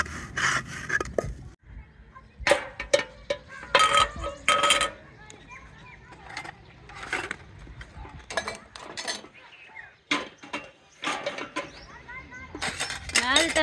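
Dishes and pots being washed and handled, with irregular clinks, knocks and scraping bursts separated by short pauses, close by, with a voice talking at times.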